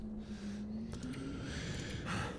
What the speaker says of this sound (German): Junge, das schnauft denn immer noch.